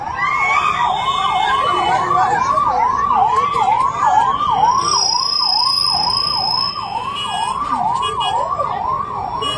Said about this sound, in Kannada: ಆ ಆಂಬ್ಯುಲೆನ್ಸ್ ದಯವಿಟ್ಟು ಎಲ್ಲ ಜಾಗ ಕೊಡ್ರಿ ನೋಡೋಣ.